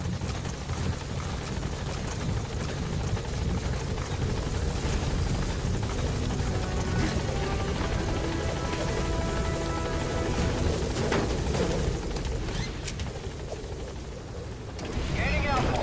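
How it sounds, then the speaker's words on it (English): Support helicopter in the Metal Gear Solid V game, a steady loud rotor and engine roar that holds throughout, with a continuous low rumble and whine and a brief swell near the end. "Support helicopter has arrived."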